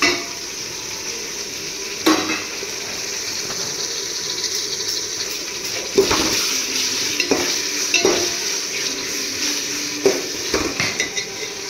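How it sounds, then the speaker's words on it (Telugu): Ginger-garlic paste frying in a pan, a continuous sizzle punctuated by repeated scrapes and clinks of a metal spoon stirring against the pan. "బాగా వేగినాక అల్లం చిన్నిపల్లి పేస్ట్ కూడా వేసుకొని కొంచెం వేపుకోవాలన్నమాట"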